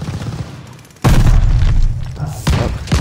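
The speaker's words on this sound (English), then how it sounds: "Incoming grenade!" A grenade goes off in Call of Duty Vanguard with a sudden, loud, close boom, and a second heavy blast follows moments later amid gunfire-like rumble.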